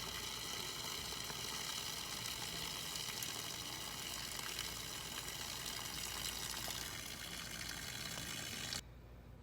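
Water gushing steadily from an RV water heater drained through its pulled pressure relief valve, a constant loud splashing rush that holds for about nine seconds before suddenly thinning at the end.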